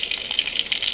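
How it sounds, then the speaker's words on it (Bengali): Hilsa fish head frying in hot oil in a pan, a loud, close, continuous bright sizzle with rapid crackling spits and pops throughout. "ইলিশ মাছের মাথাটা ছেড়ে দিলাম"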